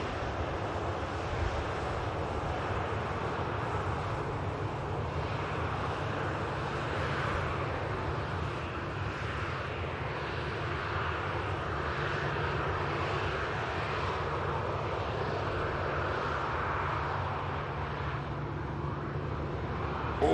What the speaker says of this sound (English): There is an aircraft, as I say, on short now.